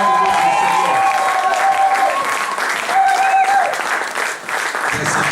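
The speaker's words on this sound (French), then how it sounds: "Je veux que nous acclamions encore bien." Church congregation applauding and cheering at a worship service, dense sustained clapping from a large crowd with voices ringing through, tapering slightly near the end.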